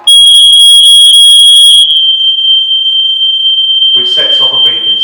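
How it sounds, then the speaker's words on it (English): A smoke and heat alarm being tested gives a loud, piercing continuous electronic beep that runs the whole time, joined near the end by a person talking. "This will then let off a loud beeping noise to let you know that your alarms are working correctly."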